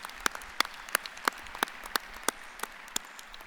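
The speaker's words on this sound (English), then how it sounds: "Please, let's give a round of applause to the faculty and staff of University" Faint, sparse clapping from an audience honoring faculty and staff of University College at VCU, a dozen or so scattered hand claps spread across a few seconds.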